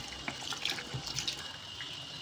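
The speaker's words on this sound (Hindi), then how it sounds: "हमने ड्रेन पे कर दिया है और पानी ये चल रहा है और यहाँ से बढ़िया निकल रहा है।" Water gushes steadily from a washing machine drain hose, a close, continuous splashing flow with small bubbling and trickling accents throughout.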